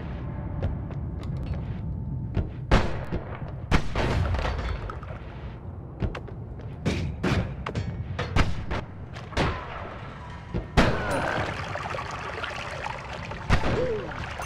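Turret fire in the Noita roguelike game, with irregular loud booms and thuds scattered over a dense, rumbling background of chaotic effects.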